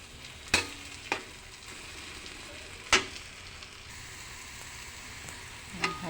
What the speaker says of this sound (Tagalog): Haluin lang natin para kumalat yung itlog sa ginisang ampalaya.